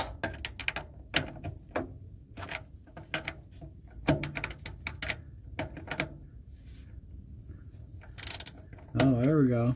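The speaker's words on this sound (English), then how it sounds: "We got ratchet action." A ratchet wrench works a fitting on a Ford E350 dual-tank selector switch, giving a run of sharp mechanical clicks in uneven bursts, close and moderately loud, ending with a short steady whir.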